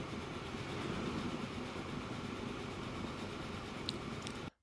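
An ore train with added wagons pulls away in Transport Fever 2, a steady rumbling rail roar with faint clatter that holds level, then cuts off abruptly.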